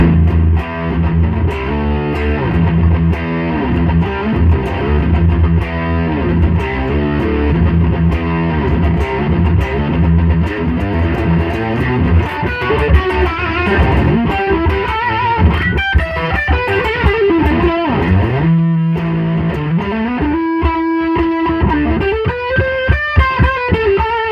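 A heavily distorted electric guitar on the bridge pickup, through a Master Shredder Doom Beast distortion pedal, plays crunchy riffs and chords, then bends and sustains notes, loud and continuous with no one speaking.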